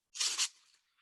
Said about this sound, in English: it won't take any time at all to clean it up with sandpaper